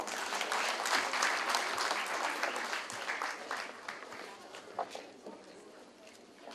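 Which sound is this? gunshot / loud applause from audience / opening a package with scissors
loud applause from audience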